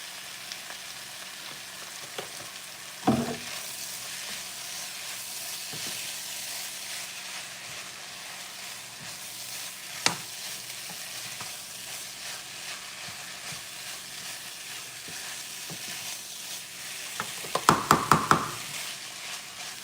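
Rice cooks in oil in a pan, a soft continuous sizzle and hiss with occasional utensil clinks and a burst of scraping stirs near the end, no talking.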